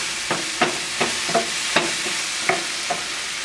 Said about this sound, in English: I'm going to stir that in.